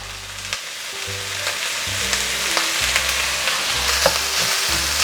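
Onions fry in a pan of oil with salt, a loud continuous sizzle close up with occasional scrapes and clicks of stirring, no talk over it.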